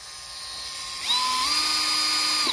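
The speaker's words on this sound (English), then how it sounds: "So I gotta take a drill bit, put it in here." Drill bit boring through a boat's pitot speedometer housing, a steady high-pitched motor whine that climbs in pitch partway through as the bit bites and then runs on continuously, close and loud.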